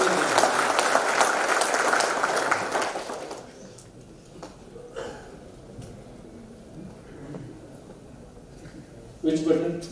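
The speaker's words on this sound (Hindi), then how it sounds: "जोर से ताली बजाइए स्पेनिश गेस्ट के लिए" An audience claps for a Spanish guest at a 2019 poultry industry conference in Nashik. A burst of applause fills the first three seconds and then fades, leaving a quieter room with scattered noises and a brief sound near the end.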